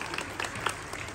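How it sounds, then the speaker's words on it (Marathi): An audience claps at a village Home Minister game show event. The burst of applause is brief and faint, scattered and somewhat distant. "वाजवा टाळ्या"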